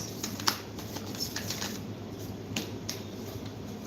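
Tarot cards being shuffled, a soft continuous riffling and sliding with a few sharper card snaps, close and fairly quiet, no talking.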